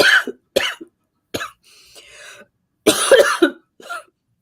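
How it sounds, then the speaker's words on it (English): Someone coughs repeatedly during a deep breathing exercise, with short harsh bursts close by, a wheezy breath in between and more clustered coughs after a brief pause. "By the way, you may cough."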